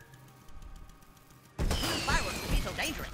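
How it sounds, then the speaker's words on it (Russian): Firecrackers burst in the South Park: The Fractured But Whole video game, a sudden loud crackling volley of sharp pops after a quieter opening. "Кто знал, что петарды так опасны?"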